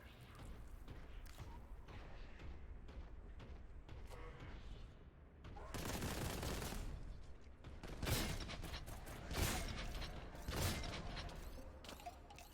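Grenade explosions in Warhammer 40,000: Boltgun, several heavy bursts going off in sequence, each a broad loud blast over a quieter bed of mechanical game clatter.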